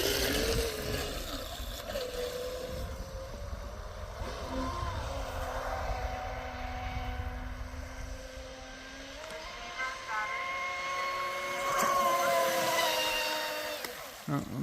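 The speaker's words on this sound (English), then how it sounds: "This is the first time I've ever ran this boat on 8S." An Oxidean Dominator RC boat on 8S batteries with a 40 mm 3-blade CNC prop runs across water, its high electric whine rising and falling in pitch as it passes, with a steady wash of water and wind noise throughout.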